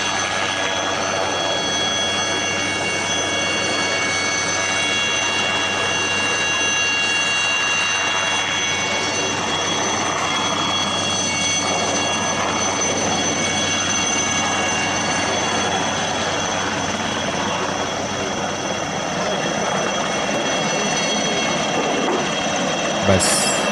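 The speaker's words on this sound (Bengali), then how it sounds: "ইঞ্জিনের শব্দ তীব্রতর হচ্ছে, পাখার গতি ক্রমশ বাড়ছে।" An aircraft engine near a golf course in Kalimpong roars steadily and builds as its blades speed up, a loud continuous drone with a bright whine throughout.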